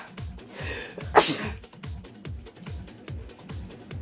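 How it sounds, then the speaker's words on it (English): A single sharp human sneeze bursts out at close range in a room during spring cleaning among dusty shoes, short and loud, over a steady rhythmic background pulse. "Yeah, that was a sneeze."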